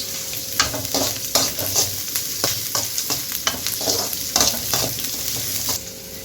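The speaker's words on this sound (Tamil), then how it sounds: "வெங்காயம் போட்டுக்கலாங்க சின்ன வெங்காயம் கட் பண்ணி வச்சுருக்கிறேன் நீள நீளமாக" Sliced small shallot-type onions fry in hot oil while being stirred, a steady close sizzle broken by repeated sharp scraping strokes of a spoon against the pan.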